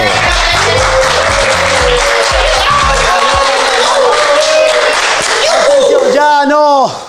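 Live show audience in Miami applauding and cheering a host's entrance, a loud, continuous roar of clapping under music and an announcer's voice, with the host starting to speak near the end.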